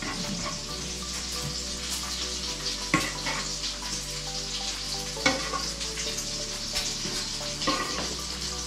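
Mallorcan sobrasada fries and melts in a pan with snails, giving a steady close sizzle with a low continuous hum underneath and occasional clinks of stirring, and no one speaking.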